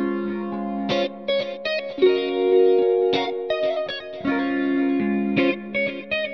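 Clean electric guitar played through a Positive Grid Spark amp with modulation and reverb effects, ringing out in chords and single picked notes with long, shimmering sustain and distinct attacks.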